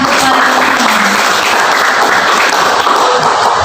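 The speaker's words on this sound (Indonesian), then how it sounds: "mari kita beri tepuk tangan yang meriah" Seminar audience on smoking hazards applauds in a steady, dense, loud wash of clapping that holds evenly throughout, with some voices mixed in.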